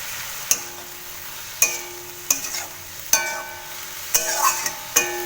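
Water spinach stirred in a pan, a quiet background sizzle broken by sharp, regular clanks of a spatula against the pan, about six in a row.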